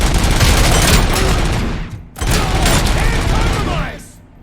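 Gunfire in the Robocop Rogue City video game comes as loud, dense bursts of rapid shots, two sustained volleys separated by a brief pause, then tailing off.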